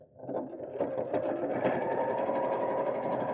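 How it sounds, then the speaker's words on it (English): A sewing machine runs steadily, stitching along pinned folds in fabric for a craft bag, a continuous close motor hum with rapid needle rhythm that holds even throughout, with no talking. "I'm going to sew along each one of these folds that I've pinned"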